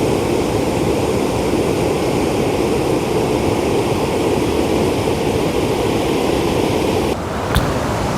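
Steady broadband roar of a waterfall near Gokak in Belagavi, loud and continuous, with a brief dip and a sharp knock near the end.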